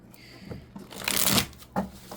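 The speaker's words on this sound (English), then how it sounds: "let me shuffle the cards and see what comes through" A deck of cards being shuffled close up, a few soft riffling bursts with one louder flurry in the middle, alone in a quiet room.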